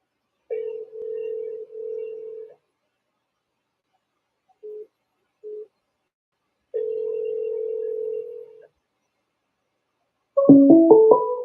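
Telephone ringback on a Google Voice call: two long steady tones, two short blips, another long tone, then a brief burst of dialing tones at the end, with silence between.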